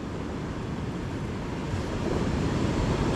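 Large post-hurricane surf breaks on the sand at Stumps Pass beach after Hurricane Ian, a steady loud wash of waves with some wind rush, swelling slightly louder toward the end, with no voices.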